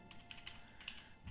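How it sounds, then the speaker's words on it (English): Keys clack on a brand new gaming keyboard, a quick irregular run of light taps heard close but faint, with no one speaking. "I am having a little bit of trouble with typing lately because I got a brand new keyboard"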